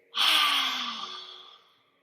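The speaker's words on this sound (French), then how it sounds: "On remet de la buée. On inspire. Et soufflez." A single forceful, breathy exhale during a third-trimester prenatal stretching exercise, close and fairly loud, starting sharply and fading over about two seconds.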